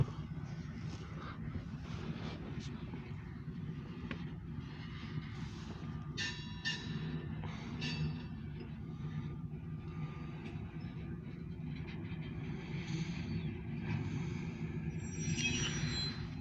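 An OC&T Alco 85 locomotive moving with grain hopper cars, a steady low rumble of rolling wheels and engine from a moderate distance, with faint squeals and clanks over it.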